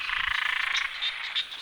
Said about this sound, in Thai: จักเสียงกบจักเสียงเขียดพี่น้อง